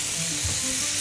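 Meatball pasta sauce sizzles and crackles in a pan as it is stirred, a bright, steady frying hiss with brief scraping movement, close and alone.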